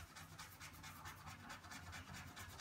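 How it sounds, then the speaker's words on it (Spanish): Sandpaper rubs a bicycle inner tube around a puncture in quick, regular back-and-forth strokes, producing a soft, close, rhythmic scratching with no talking. "cogemos la lija y la aplicaremos sobre la zona donde está el pincho"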